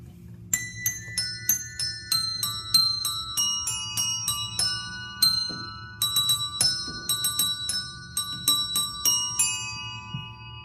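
Bells ringing out a melody, clear struck tones in quick repeated patterns over a low steady hum, bright and sustained.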